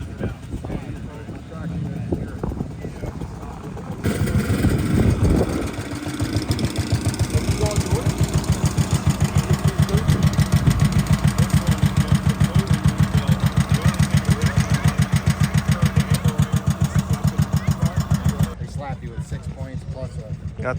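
A 1957 motor toboggan with a 9.2-horsepower engine starts and runs, a loud, steady, fast-pulsing putter close by for about fifteen seconds before cutting off, with people talking at the start and end.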